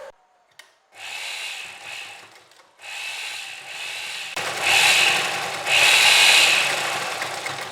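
A sewing machine stitches a panel of a 24-panel high-low designer kurti in short mechanical runs. A brief pause is followed by louder, steadier whirring bursts near the end, with no talking.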